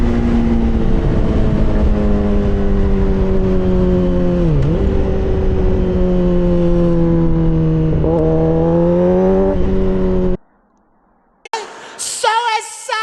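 A 2009 Suzuki GSXR600 sport bike engine revs hard and steadily under load, with brief dips in pitch at each quick-shifter gear change, loud and close, then cuts out into near silence before a voice speaks at the end.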